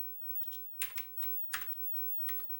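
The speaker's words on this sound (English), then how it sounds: "I just continue using my keyboard." Keys tapped on a Commodore 64 computer keyboard, about seven distinct clicky strokes at an irregular, unhurried pace, close and clear in a quiet room.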